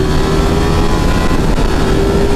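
A Ducati Panigale V4S motorcycle engine roars steadily and loudly close by under hard acceleration, with a sustained dense drone and no pauses.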